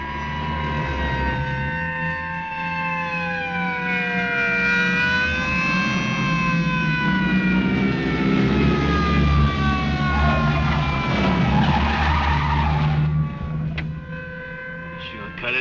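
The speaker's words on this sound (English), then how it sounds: "You couldn't possibly be surprised with all those sirens blasting." Several state trooper sirens from a 1954 film wail loudly together, their rising and falling tones overlapping continuously until they cut off near the end.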